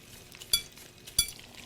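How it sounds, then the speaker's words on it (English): Beef cutlet and egg chop frying in a pan, a quiet low sizzle broken by two sharp clinks of utensil against the pan. "it's frying."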